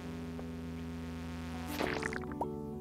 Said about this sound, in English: Get out of here, mosquito.